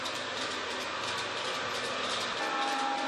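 A model train running on an indoor track loop through a house gives a continuous, even whirring rumble, with a short faint horn tone near the end and no talking.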